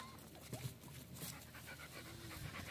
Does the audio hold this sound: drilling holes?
no